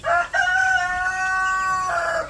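A rooster among free-roaming backyard chickens, some with Rhode Island birds, gives one loud, close, drawn-out crow of about two seconds.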